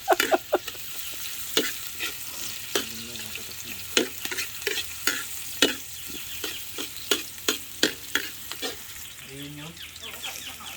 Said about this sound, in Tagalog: Ito po ang nilulutong kalabasa.